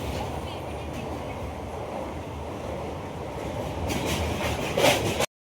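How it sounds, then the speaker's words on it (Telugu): A passenger train arrives at a station with a continuous heavy rumble and rushing noise that swells slightly toward the end before cutting off abruptly, with no clear talk. "7:30కి ట్రైన్ వస్తేనూ ఎక్కిపోయాము"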